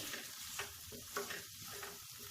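Tomatoes drop into a pan of softened vegetables frying with milk, followed by stirring: a quiet, even sizzle under light scraping strokes, close up, with no talk.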